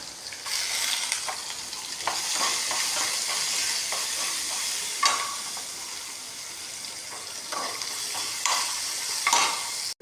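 Chopped onions with dried red chillies sautéing in a pan for rice upma make a continuous hiss and sizzle, broken by occasional stirring scrapes.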